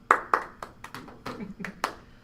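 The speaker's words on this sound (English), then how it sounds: "2 claps" Two sharp hand claps ring out close and loud, a quick pair of single slaps with short pauses between them, followed by a few softer percussive taps and voices chatting.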